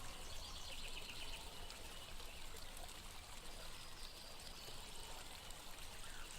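A stream in the game The Roadwarden flows with a steady, soft, continuous rushing and trickling of water, with faint bird calls.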